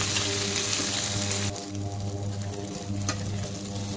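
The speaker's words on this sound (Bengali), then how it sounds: "এঁচোড় আর আলুটা ভালো করে ভেজে নিতে হবে" Young jackfruit and potato pieces fry in a pan with a steady, moderate sizzle and faint crackling, joined by a low background hum and a brief scrape partway through.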